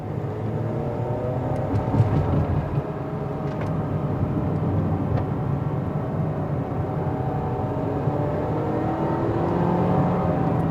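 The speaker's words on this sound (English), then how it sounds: "The engine noise is coming through." Steady engine drone inside a Mercedes-Benz GLB, a low rumble with a slight rise as the vehicle speeds up, continuous and fairly loud with no talking.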